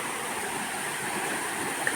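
Waterfall in Aambey Valley, heard as a steady, even broadband rush of falling water, moderately loud and unbroken, with no voices.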